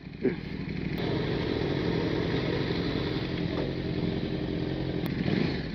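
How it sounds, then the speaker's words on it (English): A KTM RC8 motorcycle engine runs at very low speed, close to stalling, with a steady uneven low rumble and throb that persists throughout, heard close with wind noise. "Oh, I'm nearly stalling. This is too slow for the KTM."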